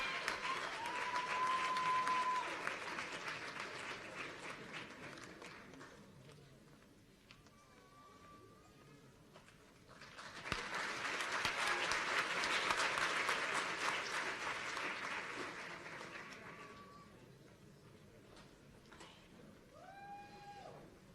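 Audience applause at a medical school white coat ceremony, with two broad swells of sustained clapping from a crowded hall that build, hold and taper, with faint voices and thin tonal sounds scattered between them.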